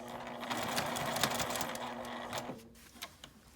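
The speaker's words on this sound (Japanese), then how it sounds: "表側から端ミシンをかけます" A sewing machine edge-stitching a fabric cutlery case from the right side runs in a steady, rapid mechanical whir, then stops near the end, leaving faint handling noises.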